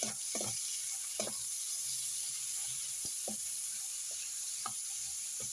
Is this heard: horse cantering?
no